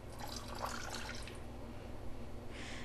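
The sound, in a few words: pouring water and borax mixture into lanolin moisturizer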